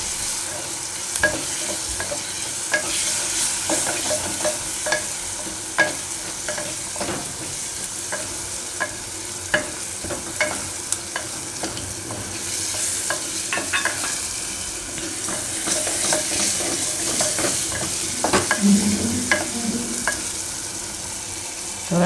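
Tomatoes go into a sizzling khichdi masala of red chili and Kashmiri chili and get stirred in, with close, steady frying sizzle broken by repeated spoon scrapes and clinks against the pot.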